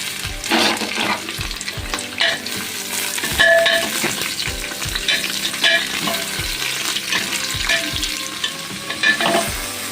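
Beans, carrots and capsicum sizzle together in a pan for fried rice, with steady frying hiss and repeated rhythmic thuds and scrapes of a spatula stirring, close and fairly loud, no talking.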